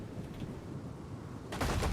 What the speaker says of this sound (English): Ooh, cannon shots.